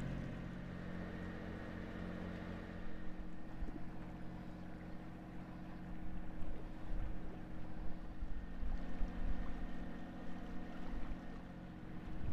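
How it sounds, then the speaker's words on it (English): A sailing catamaran motors along on its starboard engine alone, giving a steady low droning hum with faint wind and water noise around it. "we're just running on the starboard engine"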